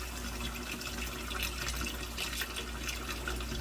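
Tap water running into a stoppered kitchen sink as it fills, a soft steady splashing stream at low level under a constant low hum, no one talking.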